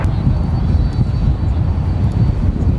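A jet airliner roars steadily and loudly at DFW airport, heard from the Founders Plaza plane-spotting area as a broad, continuous rumble with no talk over it.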